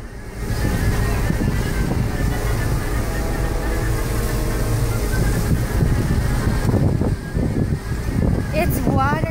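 Steady rushing wind and surging sea water heard from a cruise ship at sea fill the scene at a constant loud level, with a faint voice briefly audible underneath near the end.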